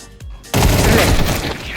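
Dense, loud burst of rapid gunfire erupts after a brief quieter stretch with a single shot, continuing as a sustained volley of game-style shooting in Counter-Strike 2.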